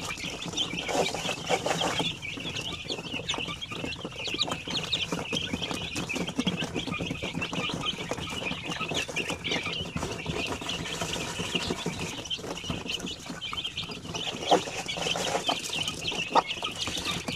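Young sampin and basilan chicks, a month to two months old, cluck and peep constantly while being fed, forming a busy, close chorus with occasional wing flaps and no speech.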